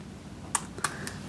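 A few light, separate clicks of keys being tapped on a computer keyboard, quiet and close, three or four quick taps in a short burst.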